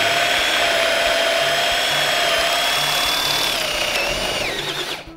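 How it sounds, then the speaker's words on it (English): A power drill whines steadily at close range as it bores through wood, pitch dipping slightly near the end before it stops. "So I'll just twist the drill a little bit,"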